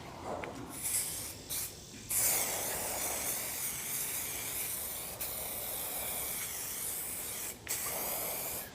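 A spray gun laying an adhesion promoter coat over a car bumper: a steady, close hiss of atomized spray with brief pauses early on, then continuous passes.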